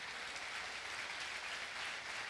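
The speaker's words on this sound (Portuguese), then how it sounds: "Você pode dar um aplauso ao nosso Deus?" A church congregation applauds steadily, a dense, even wash of clapping heard from some distance and fairly quiet.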